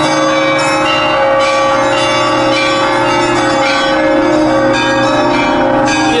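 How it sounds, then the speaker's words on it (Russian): Church bells ring continuously in a loud, dense peal with layered tones and overlapping strikes, heard close with no talking. "Иду домой под звон колоколов"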